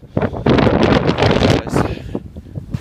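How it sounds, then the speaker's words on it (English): Strong wind gusting outdoors near a high river and bridge, buffeting the microphone in loud, uneven bursts that rise and fall across the moment. "I feel like I should shout because of the wind."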